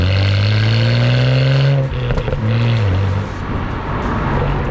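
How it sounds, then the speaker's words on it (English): A BMW E92 335i six-cylinder engine with a throaty sports exhaust burbles close by, its pitch dipping and rising as the throttle is blipped, with no voices. "the engine sounds lovely. It's got a sort of slightly purposeful burble."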